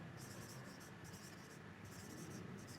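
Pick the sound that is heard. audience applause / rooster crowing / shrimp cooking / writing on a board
writing on a board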